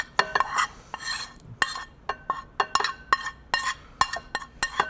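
Spices being stirred together in a bowl with a utensil, close-up clinks and scraping taps in an uneven rhythm, with no talking.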